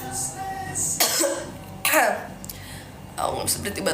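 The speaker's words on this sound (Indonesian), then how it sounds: "aku nggak bisa berhenti batuk-batuk." A person coughs in several harsh, close bursts spread across a few seconds, with short pauses between fits.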